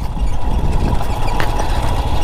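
A motorbike engine runs steadily through a ride on a rough mountain road between Sikkim's Gangtok and Kalimpong in West Bengal, a continuous close drone with road rumble and no talk.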